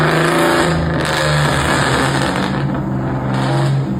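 An Infiniti Q50 VQ V6 is revved hard through a near-straight-pipe exhaust with a mid muffler and two rear resonators, giving a loud, sustained, close-up engine roar with swelling pitch and no talking.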